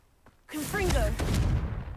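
A Confringo fire spell bursts in Hogwarts Legacy: after a quiet opening, a sudden loud explosive blast erupts and rolls on as a sustained, crackling roar, with brief voice-like tones mixed into the noise.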